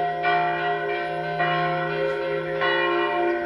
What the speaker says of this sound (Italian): con la compagnia delle campane che suonano sempre